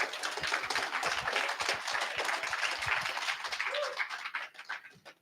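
Audience applause for graduates at a graduation ceremony, a dense steady patter of many hands clapping at moderate distance, fading out near the end.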